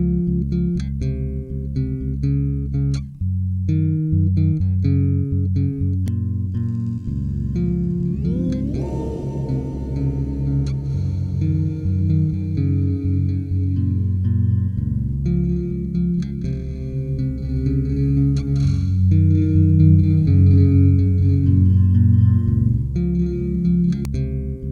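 A sustained electric bass line through an Earthquaker Devices Afterneath reverb pedal, with a long, washy reverb tail that blurs notes together, playing continuously and loudly with no talking.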